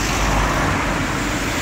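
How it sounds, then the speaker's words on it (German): A car passes along a road, a steady broadband traffic roar that stays fairly loud and even throughout with no voices. "Da kommt ein Auto."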